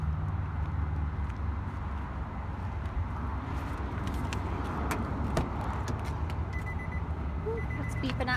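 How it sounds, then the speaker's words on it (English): A faint, repeated electronic warning beep sounds inside a 2011 Nissan Rogue SV AWD, coming in late and sitting low under steady cabin and road noise, with some talking nearby. "it's beeping at me because it's upset"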